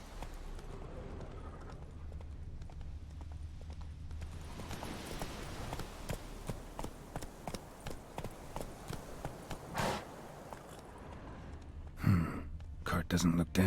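Roach the horse gallops in The Witcher, a steady run of hoofbeats that lasts several seconds. Louder hoof strikes and a burst of movement come near the end, with faint vocal sounds in the background.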